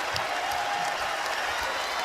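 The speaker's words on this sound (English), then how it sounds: "And now the crowd is back." A college basketball arena crowd at a Wichita State vs Memphis game roars and applauds in a steady, dense wash of cheering that fills the whole moment with no break.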